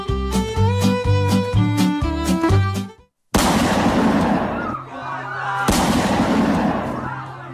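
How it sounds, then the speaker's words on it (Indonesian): Gunshots from bandits ring out in a cowboy-style scene, two sharp loud blasts with echoing tails after a stretch of music. "terdengar di atas langit suara tembakan dari para penjahat yang berasal dari kota sebelah"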